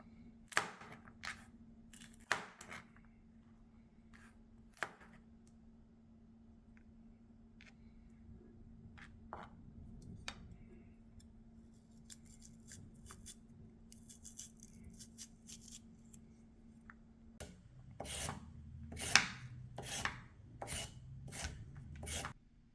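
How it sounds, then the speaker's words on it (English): Cabbage and French beans are chopped for Mauritian achard légumes, the knife giving irregular sharp chops and scraping strokes against the board. The strokes are close and moderately loud, with quicker clusters near the end and no talking. "Once you've done chopping off your veggies,"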